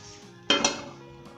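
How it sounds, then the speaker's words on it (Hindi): A plate is set down over a frying pan to flip a potato and egg omelette, giving two quick, close ceramic-on-metal clinks in quick succession against a quiet kitchen background. "इस तरह आपने प्लेट ले लेनी है और इसके ऊपर रखकर आपने इसे पलट लेना है"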